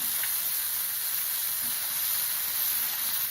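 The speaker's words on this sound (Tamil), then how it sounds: "வெங்காயம் ஒரு நிமிஷம் வதங்கட்டும் இப்போ தக்காளி சேர்த்துக்கிறேன் வதங்கிறதுக்கு உப்பு சேர்த்துக்கலாம்" Onion and tomato sauté in a hot pan, making a loud, continuous hissing sizzle like steam that stays even and close throughout, with no voices.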